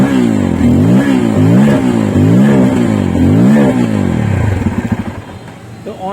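A Bajaj Pulsar motorcycle on its stand in first gear revs hard several times, its engine rising and falling loudly up close before settling into a lumpy idle.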